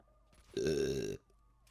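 A single loud, drawn-out burp lasting about half a second after eating a cheese scone, standing alone against quiet surroundings with no talk.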